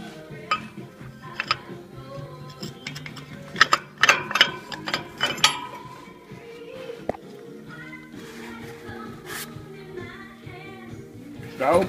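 A ratchet tool clicking in irregular bursts while the last blade is mounted, with quick runs of ratcheting ticks and sharper metallic knocks, close and moderately loud with no talking.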